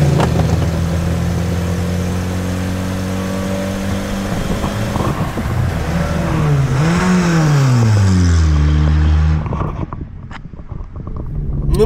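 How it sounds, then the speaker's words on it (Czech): A car engine runs steadily, then revs up with rising and falling pitch before settling back, loud and close, with no talking. "Slyšíte ten motor?"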